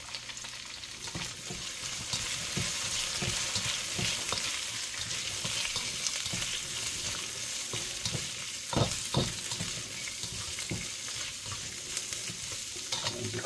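White stalks of bok choy stir-frying in a hot pan, a steady, dense sizzle and crackle running throughout with a few louder pops and stirring scrapes near the end.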